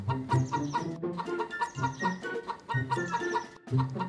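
Hens on a poultry farm cluck in repeated bursts, several birds close by with rhythmic, chattering calls rising and falling in short groups, no voices.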